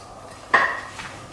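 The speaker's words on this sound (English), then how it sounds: "So I'm just going to drop the onions in there." Chopped onions tipped into hot oil in an Instant Pot give a sudden clatter and sizzle that rings briefly, then eases into a quieter frying hiss.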